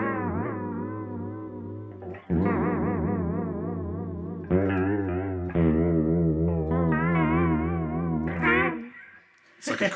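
A Chase Bliss Tonal Recall delay pedal set as a heavy modulation effect, mix full and delay time minimal, gives a sustained tone with deep, wobbling vibrato in several loud phrases, ending with a brief drop.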